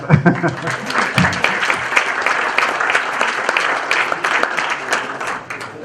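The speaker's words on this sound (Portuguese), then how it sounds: "Então, uma salva de palmas." Loud, sustained audience applause marks the official launch of a science project's website at a lecture event, dense clapping close by with a few voices mixed in.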